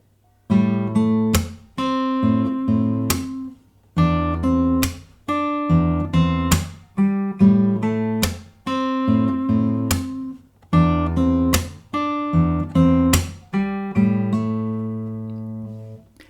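An electric guitar riff played slowly, with percussive muted hits between sustained chords, repeating in a deliberate rhythm.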